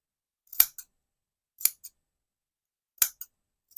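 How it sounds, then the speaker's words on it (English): Scissors snipping the ends of rag loops for Christmas hair bobbles, four separate crisp double-clicks spaced about a second apart, close and sharp against silence. "I'm going to grab for the scissors, and I'm going to snip"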